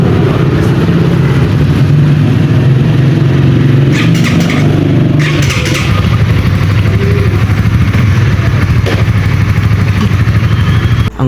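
A KSR motorcycle engine, just started by a mechanic, idles loud and close with a steady low rumble, a few revs and clanks partway through, running throughout without speech.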